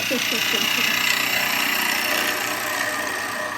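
A spindle gouge cuts a wooden bowl spinning on a lathe, giving a continuous, fairly loud, broadband scraping hiss with a faint rhythmic chatter at the start.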